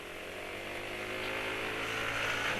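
A motorcycle engine running on Valvoline Champ 4T 20W50 oil, buzzing steadily and slightly rising in pitch as it revs, fairly faint and heard alone.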